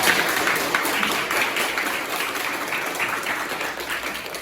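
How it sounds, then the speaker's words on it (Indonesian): Applause from the audience at a high school debate competition, a steady wash of clapping at moderate level that continues evenly throughout without voices. "tepuk tangannya mana?"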